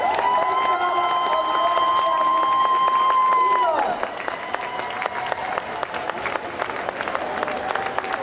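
Spectators at a dog show applaud steadily, a dense sustained patter of many hands, with a whistle-like tone and talk over it early, settling into continuous clapping.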